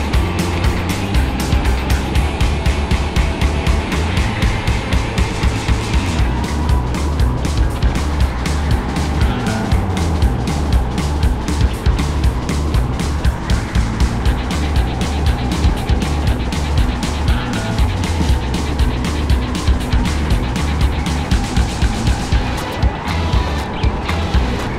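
A go-kart engine in a four-hour endurance race buzzes loud and close throughout, its pitch rising and falling steadily with throttle changes through corners, with no speech over it.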